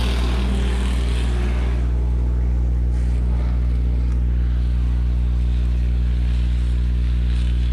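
Sportsman stock cars on the final lap at Rock County Speedway, a loud, steady, saturated engine drone with deep harmonic hum, continuous throughout with slight surges as the field passes.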